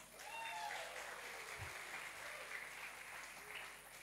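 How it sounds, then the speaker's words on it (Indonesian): Audience clapping at the opening of a church youth event, a steady wash of many hands that stays fairly faint and distant for the whole stretch. "Tepuk tangan dong."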